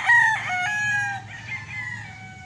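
A Sweater-bloodline gamefowl rooster of the Larry Romero Raptor line crows loudly and close by, one long drawn-out cock-a-doodle-doo that tapers off at the end.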